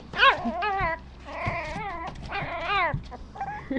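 Puppies whimper and yip in high, wavering whines, several overlapping cries in quick succession, close and fairly loud.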